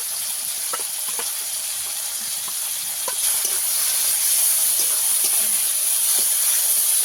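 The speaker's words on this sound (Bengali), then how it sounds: "টমেটো দিয়ে টমেটো ভালো করে ভেজে নেব" Tomatoes and ginger fry in a pan for a vegetarian broccoli curry, giving a steady, loud sizzling hiss that swells partway through, with faint scattered clicks from stirring.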